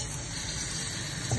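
Butter and two garlic cloves sizzling in a pan for a breakfast dish, a short steady hiss at low level with a faint stir near the end.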